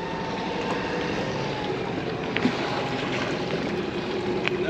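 A boat engine revving up during hurricane preparation, a steady, loud motor drone with a slight swell in intensity and no talking.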